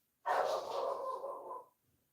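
A single drawn-out bark or howl from a dog indoors, loud and close, lasting over a second and then cutting off into quiet with no talking.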